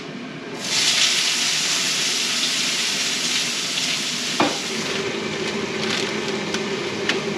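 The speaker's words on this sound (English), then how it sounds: "Anyway, cooking dinner." Crispy shallots frying in hot oil give a loud, steady close sizzle that runs nearly the whole time, with a single sharp knock partway through and faint clicks near the end.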